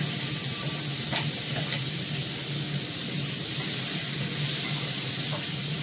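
Onion and potato frying together in oil for a fish curry, a loud, steady hissing sizzle close by with faint spatters, swelling briefly toward the end.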